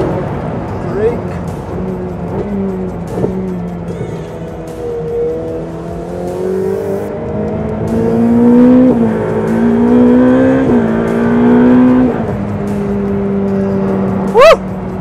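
Ferrari 488 Pista engine revving hard at speed on track, a loud rising whine climbing through the gears toward the limiter, with steady drivetrain roar throughout and a brief sharp blip near the end.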